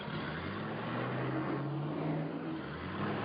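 A car accelerates along a straight, its engine note rising in a steady, moderately loud whir with faint tonal bands beneath, continuous and without talk.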